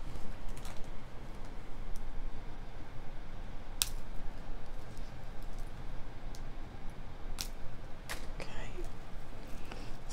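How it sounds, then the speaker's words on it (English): Wire cutters make a few sharp, isolated snips while trimming jewelry beading wire on a necklace, scattered clicks standing out over a quiet room hum. "And I am going to trim my wires."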